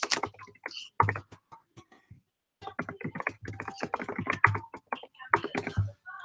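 A computer keyboard clatters with quick, uneven bursts of close key taps, pausing briefly before another run of typing.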